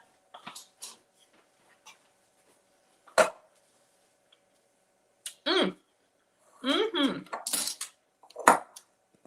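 Knife cutting an apple in half on a board, a few separate crisp chopping knocks and scraping cuts spaced across the quiet, with clinks of utensils and no speech.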